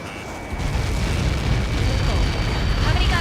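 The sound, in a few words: explosion in video game Ace Combat 7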